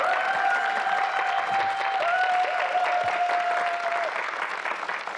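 A studio audience on a Korean government TV talk show applauds in a dense, sustained wash of clapping, with a bright tonal sound running through it.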